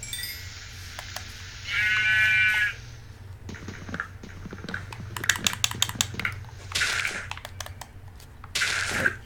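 A sheep in the Minecraft video game gives one clear, brief bleat, followed by scattered clicking of keyboard keys and game sounds; no one speaks.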